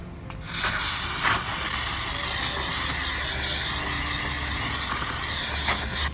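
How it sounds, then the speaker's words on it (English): Würth brake cleaner sprays in one continuous loud hiss lasting about six seconds, a steady high rush of aerosol from start to finish with no talking over it. "the brute force of the spray also allows for proper cleaning"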